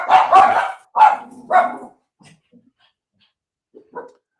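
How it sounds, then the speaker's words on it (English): Dogs barking indoors during a bourbon-tasting live stream: a few loud, close barks in a quick burst, then fainter short yips and whimpers trailing off into quiet. "there's not a live stream without my dogs barking for sure"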